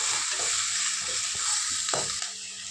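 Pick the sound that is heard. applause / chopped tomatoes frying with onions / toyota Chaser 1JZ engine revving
chopped tomatoes frying with onions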